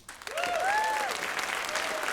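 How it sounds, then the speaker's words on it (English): Applause from a room full of creators at an awards ceremony, a dense wash of clapping that swells quickly and holds steady, with voices cheering and calling out over it. "let's have a gigantic round of applause"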